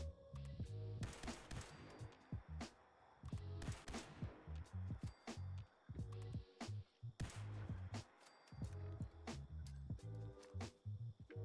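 Ultracite laser rifle firing semi-auto in Fallout 76, used in a commando build: sharp zapping shots come in quick bursts separated by short pauses, with close, loud impacts throughout.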